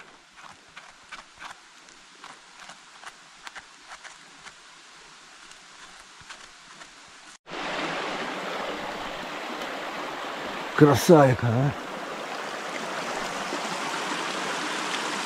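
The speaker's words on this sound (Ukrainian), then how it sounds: "Поруч річка шуміть." A mountain river rushes beside a forest path, a steady broadband roar that swells loudly once the recorder nears the water, with faint footsteps before it and a short spoken remark over the flow.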